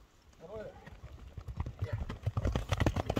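Hooves of a large dark bay horse clip-clop on the ground as it is led toward the camera, the steps growing louder and more frequent, with brief voices nearby.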